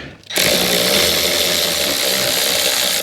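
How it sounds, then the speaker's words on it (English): A power tool whirs loudly and steadily for about three seconds while undoing the three 10mm bolts that hold the sound deadener on a diesel Toyota Landcruiser 200 Series, starting abruptly after a brief quiet moment. "Time to remove this sound deadener. It's got 3 10mm bolts holding it on."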